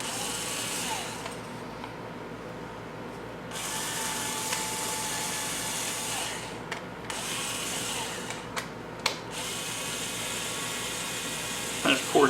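Power drill with an 1/8 inch bit boring a hole through a part for a model build, a steady whirring motor with brief pauses and small clicks, close and moderately loud.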